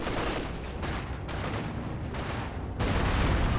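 Sustained machine gun fire from an infantry firefight in Company of Heroes 2, a dense continuous rattle of overlapping bursts that grows louder near the end, with no talk over it.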